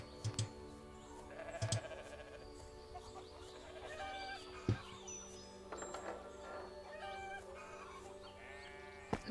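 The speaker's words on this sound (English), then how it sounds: "we can milk some of the goats" Goats bleating on a farm in a video game, several short calls scattered through a layered bed of farmyard animal sounds including clucking fowl, fairly quiet and with no talk.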